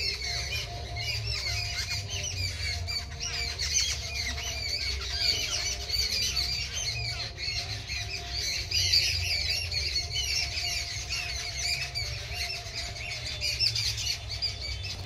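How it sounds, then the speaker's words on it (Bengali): A flock of birds near a bay leaf tree, with dense overlapping squawks, chirps and shrill calls that go on without a break, fairly close and lively over a low background hum, with no talk. "পাখিরা কি সুন্দর কিচিরমিচির করছে"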